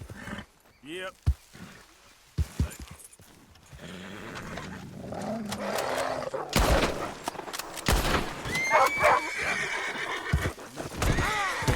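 A horse in Red Dead Redemption 2 neighs and whinnies loudly, with clip-clop hooves, wild animal roars and bursts of gunfire in the game, while someone shouts over it.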